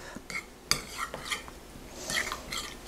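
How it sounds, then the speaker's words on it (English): A spoon stirs and scrapes through a tuna appetizer with lemon in a bowl, giving quiet irregular clinks and wet squelches close by, with no talking. "A little bit of lemon in there too. Just to give it a little zing. And then, easy peasy, you mix it all up."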